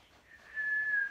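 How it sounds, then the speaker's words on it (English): A person whistles a single sustained tone that starts softly and grows louder and steadier over about a second, with no other sounds around it. "Nice whistling."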